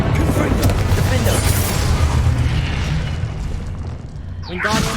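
A Bombarda or Confringo explosion spell in Hogwarts Legacy goes off as a loud, close boom, its rumble slowly fading over several seconds before a bright shimmering magical effect rises near the end.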